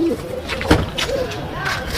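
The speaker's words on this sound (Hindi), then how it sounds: "तकरीबन सारे कबूतर उड़ गए हैं" Pigeons released from a rooftop coo and flutter briefly, with a short burst of wings near the middle under a voice.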